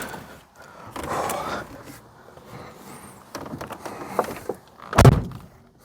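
A Ford Sierra XR4i car door shutting with a solid thunk near the end, with a few other softer knocks and handling sounds beforehand; close and fairly loud.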